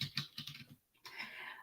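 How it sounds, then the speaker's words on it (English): Rapid clicking of computer keyboard keys in two short bursts with a brief pause between, close and fairly quiet, no voices. "I'm typing that right now"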